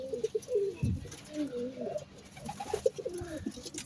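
Pigeons in nesting boxes coo in close, repeated throaty rolls, overlapping one another, with someone talking quietly underneath.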